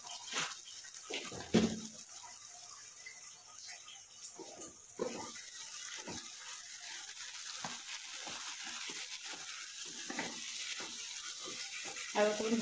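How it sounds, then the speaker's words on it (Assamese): Fish frying with mustard in a pan sizzles steadily close by, with occasional stirring clatters and a louder sharp burst early on, and a voice speaking faintly at times. "আৰু তুমি ভাজিয়ে থাকিব লাগিব"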